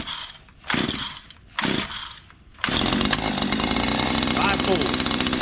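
Small petrol engine, likely a chainsaw, with the choke on: two short pull-start bursts, then the engine catches and runs loudly and steadily up close while people talk.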